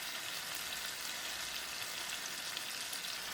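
Fish and other seafood fry in a paella pan over medium-high heat, giving a soft, continuous hiss and crackle that stays even and fairly quiet throughout.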